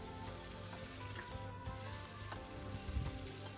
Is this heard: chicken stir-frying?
yes